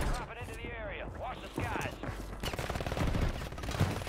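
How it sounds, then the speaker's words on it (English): Gunfire from an unseen shooter in the Warzone battle royale game, several bursts and shots at moderate distance, with a voice talking over them throughout. "Somebody's definitely shooting at me, though, from like somewhere"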